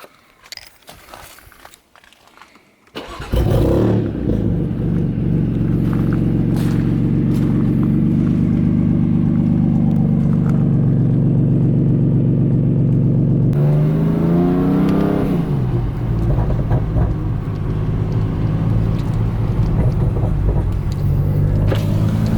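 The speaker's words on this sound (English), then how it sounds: "then we'll fire up the car" A BMW M3 F80 turbocharged inline-six cranks and fires after a few seconds of quiet clicks, flaring loudly before settling into a steady, deep, rumbling idle, with a brief blip partway through and no talking.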